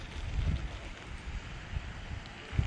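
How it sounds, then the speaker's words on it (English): Strong gusting wind outdoors at a pond, a steady low rumble of buffeting against the microphone with a few louder gusts, heard alone without talk. "it is just something else this wind today"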